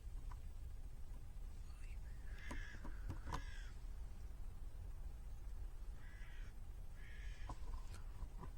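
Hooded crows call in the open outdoors, with a few hoarse caws at a moderate distance followed by a second burst of cawing later on, over a steady low rumble of background noise.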